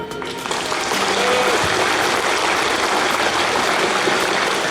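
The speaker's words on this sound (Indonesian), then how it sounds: "Tepuk tangan." A large outdoor crowd claps steadily at a police-led Indonesian flag ceremony in Tulungagung, loud, dense applause filling the whole stretch without letting up.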